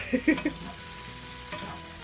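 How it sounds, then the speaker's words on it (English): Onions fry in a pan while being stirred, giving a steady close sizzle with a few quick spoon scrapes and clacks at the start and another brief stir later. "Let me give this a good stir"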